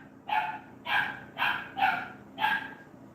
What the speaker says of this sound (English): there's a dog outside the door.